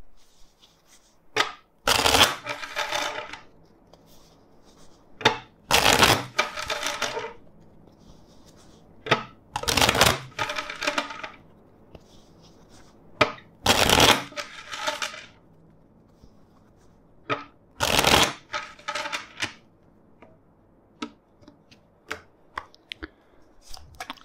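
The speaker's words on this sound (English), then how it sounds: "let's shuffle the deck four times for you" Tarot cards are shuffled in several loud riffling bursts, each a quick flurry of flicking snaps, separated by pauses with lighter tapping and handling.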